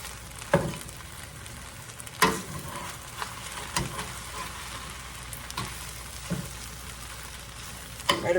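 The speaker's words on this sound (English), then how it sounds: "Now I'm just stirring it and getting it together, okay?" Eggs stirred into pork fried rice in a hot pan, a constant sizzle broken by sharp scraping clacks of the utensil against the pan at irregular intervals.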